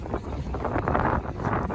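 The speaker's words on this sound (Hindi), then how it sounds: "बहुत ठंडी हवा चल रही है भाई, वेरी वेरी कोल्ड।" Very cold wind blows across Sela Pass, a high mountain pass in Arunachal Pradesh, as a steady, loud buffeting rush that roars on the microphone without pause.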